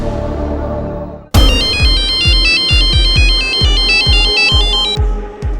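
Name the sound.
phone ringtone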